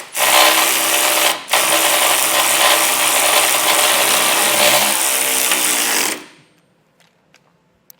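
An impact wrench runs in one loud, sustained burst that is nearly continuous, with a brief pause after the first second. The wrench is tightening bolts while a tabless base plate kit is installed on a vehicle, and the clip ends in quiet clicks.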